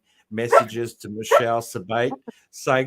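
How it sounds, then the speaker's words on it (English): A dog yelps and whines in short, high bursts mixed in with a person talking close to the microphone. "That's my dog. Yeah. He's screaming."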